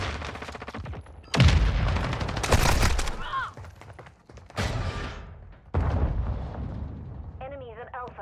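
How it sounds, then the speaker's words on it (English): Enemy gunfire in Call of Duty: Modern Warfare II comes in several loud, dense bursts of shots and blasts separated by quieter gaps, with game voice lines and radio chatter mixed in. "The enemy's attacking. Shooting at me."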